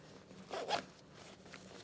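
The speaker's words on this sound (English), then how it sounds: "Kind of zips open like so." A motorcycle riding jacket's rear ventilation zipper on an Alpinestars Stratos V2 Techshell Drystar is pulled open in one quick, close, soft zip lasting under a second, with a faint rustle after.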